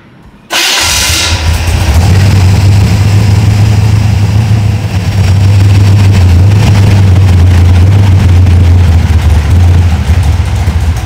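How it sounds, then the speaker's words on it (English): An engine fitted with FiTech EFI cranks briefly and catches, then roars into a loud, steady idle that holds a constant low hum. "we'll go to crank the engine again and we'll see what the system does"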